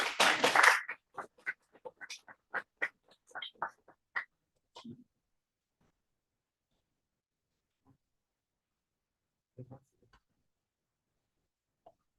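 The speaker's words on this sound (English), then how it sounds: "Please a big round of applause." An audience welcomes author Dr. Anurag Mairal with a short burst of clapping that quickly thins to scattered individual claps, then a few faint isolated claps in near silence.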